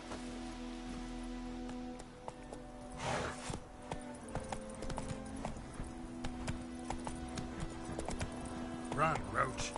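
Roach the horse in The Witcher game gallops with quick rhythmic hoofbeats under a droning game ambience, with a brief whinny-like burst and some voice-like sounds mixed in.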